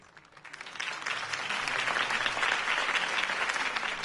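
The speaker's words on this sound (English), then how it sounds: "If only Mr. Wayne, my campaign's largest backer, could have heard that applause" Crowd applauding a campaign speech in the Batman: The Telltale Series video game, clapping swelling up from quiet to a full, sustained roar of many hands.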